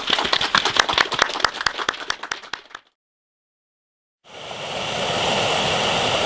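River water surging into a small hydroelectric intake basin after spring rains, a loud steady rushing wash, preceded by a crackling splashing stretch and a brief silent gap.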